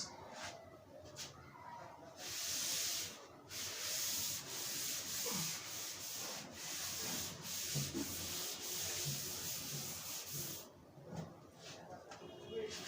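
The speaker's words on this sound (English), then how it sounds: "Pardon me to rub out this part." Writing rubbed off a classroom board, long rough scrubbing strokes in bursts with short pauses, close and fairly quiet, no talk over it.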